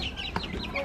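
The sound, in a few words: young chickens clucking in crate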